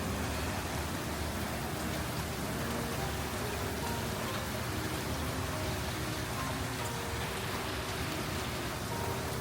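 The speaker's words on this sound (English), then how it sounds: "It's raining. Listen, listen." Steady rain pours down outdoors, a dense, even hiss of drops on surfaces that holds constant for the whole stretch with no voices.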